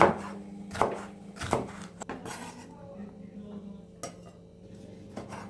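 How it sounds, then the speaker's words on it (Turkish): A knife chops green peppers on a board, a few sharp cuts with pauses between them, close by with faint kitchen clatter. "Yeşil biberlerimizi de doğrayalım."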